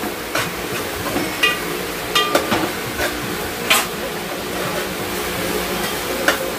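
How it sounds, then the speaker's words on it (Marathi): Grated coconut being roasted in a pan and stirred, with a steady soft sizzle under repeated scraping and clinking strokes of a spoon against the pan, close and moderately loud, no talking. "आपण खोबरं चांगलं परतून घेऊया."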